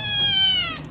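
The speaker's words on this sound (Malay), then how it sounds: "Meow. Meow." A domestic village cat gives one clear, drawn-out meow, close and loud, with a steady tonal cry that slides slightly downward, heard alone without talk.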